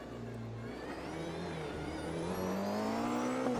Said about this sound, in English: What I like about this car is the sound for sure.